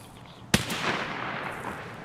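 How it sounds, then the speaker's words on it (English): A single sharp gunshot from a sniper scav in Escape from Tarkov cracks out and then rolls off in a long, fading echo. No other shots follow within the two seconds. "They're getting shot by the sniper scav right now."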